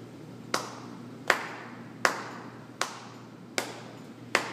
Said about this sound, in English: go ahead, clap it.